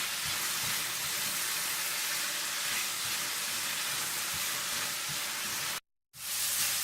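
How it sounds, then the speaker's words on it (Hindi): Almonds and raisins frying in a pan for Afghani pulao, giving a steady, close, continuous sizzle with no voices, broken by a brief silent gap near the end before the frying resumes. "और साथ ही आप डाल दें बादाम और किशमिश। और इन्हें भी आप थोड़ा सा भून लें।"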